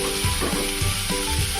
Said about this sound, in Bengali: এটাকে আরো 2-3 মিনিট মতো কষিয়ে নিই